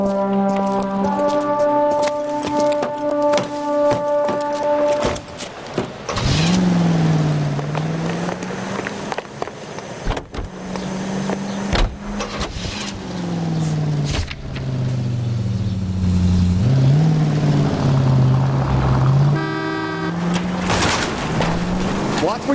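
Car horns blare in long tonal blasts over the engine of a car driving through city streets in the video game L.A. Noire, loud and close, with honks recurring throughout.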